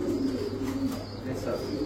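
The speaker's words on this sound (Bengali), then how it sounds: "কি কবুতর এটা? গোল্লা?" Golla pigeons at a pigeon market coo in low, soft, repeated throbbing calls close by. A faint murmur of people is in the background.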